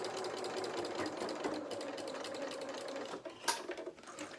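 A sewing machine stitching fabric for a stuffed bear body, a steady rapid mechanical chatter up close and fairly quiet, slowing and stopping near the end with a small clunk.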